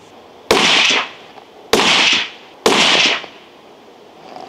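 A Strasser straight-pull rifle fires Hornady 178 grain ELD-X hunting loads, three loud, sharp shots about a second apart, each cracking and then echoing away outdoors.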